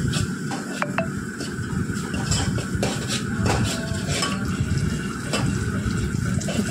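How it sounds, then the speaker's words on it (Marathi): Moong dal being stirred in a hot pan while cooking a luffa (dodka) vegetable dish: a steady scraping and shuffling that stays close and continuous, with no one speaking. "व्यवस्थित हलवून घेऊया।"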